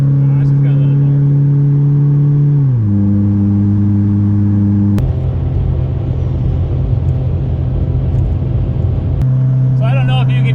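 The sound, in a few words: 1993 Honda Civic engine straining at full throttle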